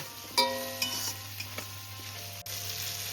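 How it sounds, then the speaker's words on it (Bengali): Pumpkin pieces fry in a pan beside already fried potato and papaya, making a soft, continuous sizzle with a few light clinks and scrapes of stirring. "দেখো আলু, পেঁপে, কুমড়ো আমার ভাজা হয়ে গেছে"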